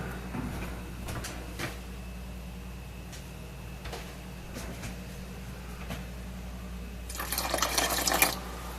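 About half a cup of water is poured into a ground beef dish in a home kitchen, a short splashing pour near the end after a quiet stretch with faint clinks.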